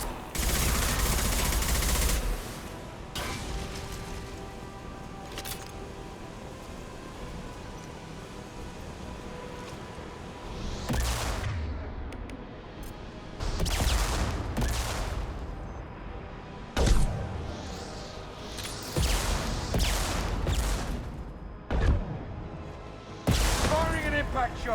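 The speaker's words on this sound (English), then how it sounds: "Firing an impact shot." Impact shot gunfire in Mass Effect 2: a loud opening burst, then several sharp, heavy blasts and rattling volleys spaced across the clip over a steady, busy background of game combat noise.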